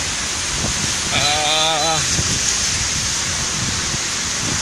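Heavy rain pours in a dense, continuous hiss at Manila Bay, with gusty wind and a brief tonal whine partway through.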